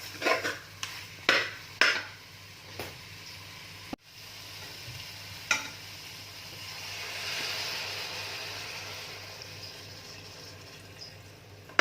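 Half a glass of water poured into a pan of mutton curry: a few sharp utensil knocks and clinks, then a rising wash of sizzling and bubbling as the water hits the hot curry, close up.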